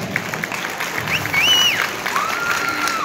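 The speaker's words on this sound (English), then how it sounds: "So let's give them a round of applause." An audience at a high school winter concert applauds a jazz band, a full, steady roar of clapping with some cheering and whistles rising over it.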